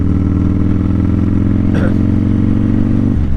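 Steady, close motorcycle engine drone while a rider turns on soft ground, a constant mid-pitched hum with a brief clatter partway through and the engine note shifting near the end.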